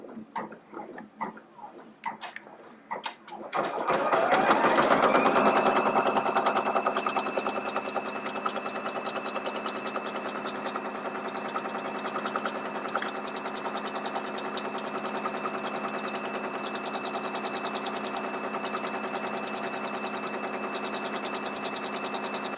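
A Baby Lock Capella single-needle commercial embroidery machine starts up and stitches steadily, a fast even mechanical rattle with a constant whine, close and sustained after a few quiet clicks.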